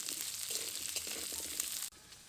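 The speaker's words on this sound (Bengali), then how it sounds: "এবার কিছুক্ষণ ভালো করে ভাজবো" Chopped onions frying in a pan for onion pickle give a steady, close sizzle that drops suddenly to a quieter hiss near the end.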